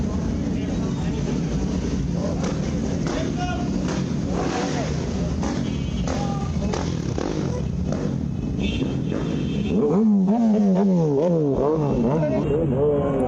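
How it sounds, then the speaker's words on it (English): Vehicles leaving a gas station rev and accelerate hard while doing wheelies, engines climbing and rising in pitch near the end, with someone talking over the traffic noise throughout. "all these idiots leave the gas station and start doing wheelies"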